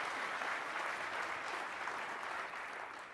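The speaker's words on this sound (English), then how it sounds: "We should give Dustin some applause first" Audience at the Microsoft Build 2015 conference applauding, a dense patter of many clapping hands heard at moderate distance, holding steady and then tapering slightly near the end.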